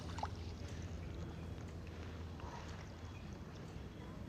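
Canoe or kayak paddling along Blue Spring run in Florida, with a steady low rumble of water and boat noise and faint splashes, continuous and fairly close, no talking.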